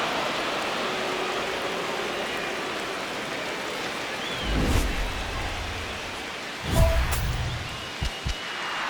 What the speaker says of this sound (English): This rain is not letting up.